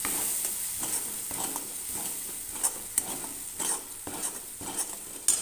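Mustard, poppy seed and green chilli paste stirred in a hot pan for fish curry, a soft sizzle under repeated spatula scrapes and clinks against the metal, close and rhythmic.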